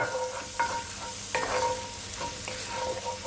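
Onion fries in melted unsalted butter in a pan for a creamy garlic chicken breast dish, with a moderate, steady sizzle and several scraping stirs.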